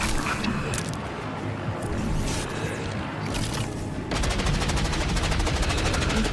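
Rapid gunshots in a Warhammer 40K animation, with bursts of automatic fire crackling continuously and intensifying into a fast steady stream near the end, loud over a dense battle din.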